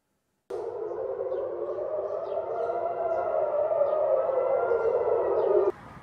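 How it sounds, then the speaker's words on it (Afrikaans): A single air raid siren in Israel wails steadily for several seconds, a sustained droning tone that holds level and then cuts off abruptly, with nothing else audible. "Sirenes het laatmiddag weer in verskeie gebiede in Israel begin loei"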